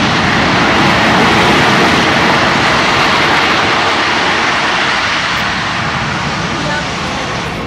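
An F-22 Raptor jet flies at the 2009 Langley AFB airshow, producing a loud, continuous engine roar that fills the whole stretch and fades slightly toward the end.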